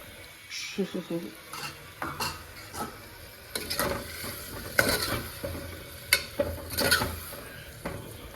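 Spice paste stirred and frying in a pan makes a soft, steady sizzle, broken by repeated scraping strokes and clinks of a spoon against the metal, close and fairly quiet.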